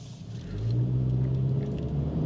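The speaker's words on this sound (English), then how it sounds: "you hear the engine sound" Engine of a 2024 Acura Integra A-Spec while driving, a low, steady hum that swells slightly as revs rise and then holds, heard from inside the cabin with no talking.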